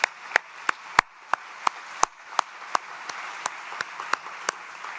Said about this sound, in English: So round of applause for everyone who has dug in here and made a difference